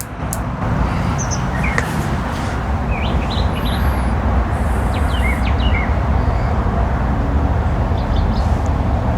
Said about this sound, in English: I hope you guys can hear all the birds.